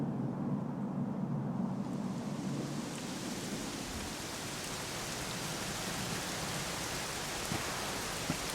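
Steady rain pours in Dragon Quest XI, a dense, even hiss of downpour with a low rumble underneath, continuous and alone with no voices.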